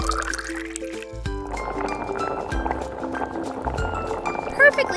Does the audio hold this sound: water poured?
yes